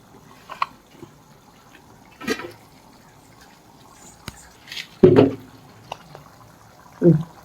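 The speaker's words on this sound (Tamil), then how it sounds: "அப்புறம்தான் இந்த புளி தண்ணியை அது கூட சேர்த்திக்கணும்" Tamarind water is poured over soaked fish for a Tamil meen kulambu, heard as a few brief, separate splashes and trickles with quiet gaps between them.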